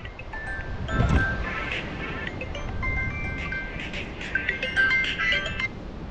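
A mobile phone rings with a repeating electronic melody, moderately loud over steady road and engine rumble inside a vehicle driving through the Kinnaur valley, with a brief thump near the start.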